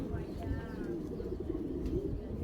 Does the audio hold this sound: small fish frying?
no